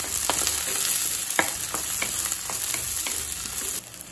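Shallots sauté with ginger and garlic in ghee for drumstick leaf soup: a constant close sizzle runs throughout, broken by sharp ladle scrapes and taps against the pan.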